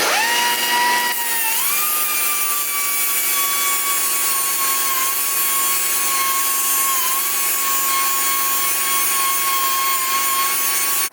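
A power tool cuts through a screw during a turbocharged Honda Civic build, giving a loud, steady high-pitched whine that climbs in pitch after the first second and then holds, with a faint rubbing grind underneath.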